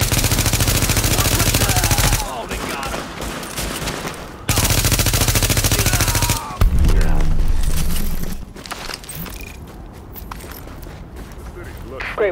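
Dense bursts of automatic gunfire from the video game The Division come in heavy stretches broken by brief pauses, mixed with shouted voices and game effects.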